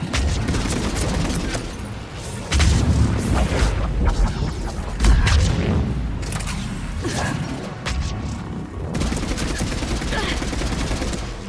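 Gunfire and explosions in the Mass Effect 3 video game: bursts of rapid shots and heavy booms repeat across the clip, loud and close, with mechanical clatter between volleys.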